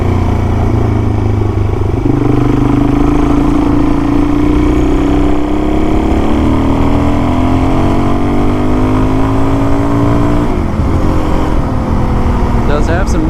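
A 400 motorcycle fitted with an FCR39 clone carb pulls hard on a back road, its loud engine note climbing steadily through the revs, easing off briefly, then climbing again.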